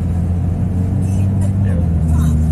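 A BMW M2 on a race track, its deep engine droning steadily and close with a slight rise in revs, while people talk over it.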